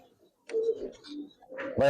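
Large tagged pigeons of Giribaz, Kaldom and Mushaldom types coo softly at close range in a couple of low, throaty phrases, with a brief rustle near the end.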